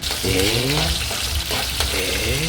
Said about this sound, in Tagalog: So guys, magigisa na ako ng ating pansit.